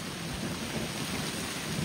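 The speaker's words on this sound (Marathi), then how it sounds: "पाऊस पडत आहे" Steady rain falls outdoors in a dense, even hiss, heavy and constant throughout with no voices.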